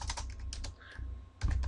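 Keywords being typed on a computer keyboard, a quick run of close key clicks in two bursts with a short pause between, no talking.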